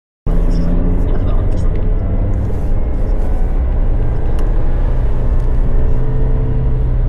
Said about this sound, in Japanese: エンジンは元気な音を奏でる直4